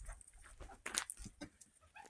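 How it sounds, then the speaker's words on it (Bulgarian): A dog named Mecho whimpering faintly, thin intermittent whines and small sniffs spread over a couple of seconds, quiet and nearby. "И там е кучето зад него."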